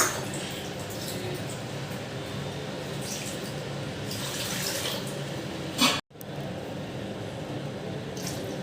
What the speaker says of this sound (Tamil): அதுக்கு தேவையான அளவுக்கு தண்ணி ஊற்றிக்கிறோம்.